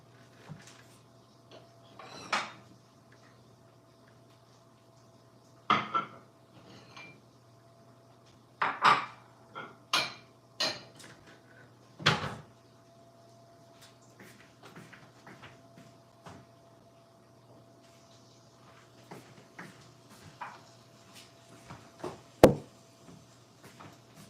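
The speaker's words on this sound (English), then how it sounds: "I'm just gonna dish up the mushrooms and onions in here." Sautéed mushrooms and onions are spooned from a pan into a bowl in a home kitchen. Quiet, scattered clinks and scrapes of utensil on dishware come in irregular bursts over a low background hum.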